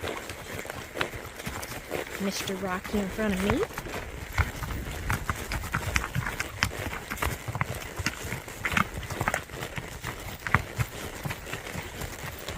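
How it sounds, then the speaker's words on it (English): An eight-year-old, 16-hand Tennessee Walking horse stud is ridden in a gait along a trail near a lake in Kentucky. The hoofbeats form a quick, steady clip-clop close by, and a rider talks over them. "Got Maverick, our stud horse, gating off, nice and purty."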